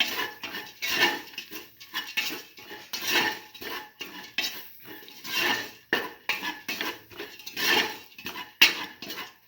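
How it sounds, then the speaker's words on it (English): A spoon stirs and sautés a lentil and turmeric mixture in a cooking pot, with repeated scraping and clinking strokes in an irregular rhythm, close and moderately loud, no voices. "thoroughly saute and mix."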